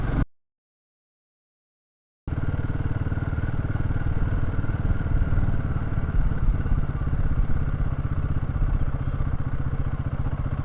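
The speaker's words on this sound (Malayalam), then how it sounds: "ഇനി ഫോർത്തിൽ 30 താഴോട്ട് പോകുമ്പം ഒരു ഇച്ചിരി ഇതുണ്ട്," Royal Enfield Himalayan 450 engine running in fourth gear at low speed, a steady close mid-pitched thrum with faint light knocking underneath, following about two seconds of silence at the start.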